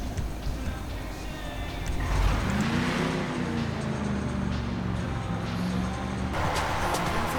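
Keitora pickup truck in GTA Online driving around town, a steady engine drone with rising revs and a shifting engine tone, continuous and fairly loud throughout.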